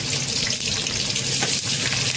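Blended ingredients hiss and sizzle as they fry in a hot pot, a steady close crackling wash with no voices over it.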